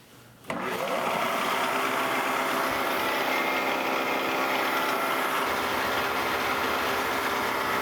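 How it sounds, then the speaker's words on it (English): A phase converter starts up in a metal shop where knives for a metal shear are being ground, jumping from quiet into a loud, steady mechanical hum and whine that holds unbroken. "So let's turn on our phase converter."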